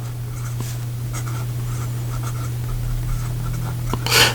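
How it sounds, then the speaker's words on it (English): A Visconti Homo Sapiens fountain pen with a medium 23-karat palladium nib scratches faintly across paper in short strokes over a steady low hum, with a louder rustle at the end. "here we go with the writing sample for the Visconti Homo Sapiens"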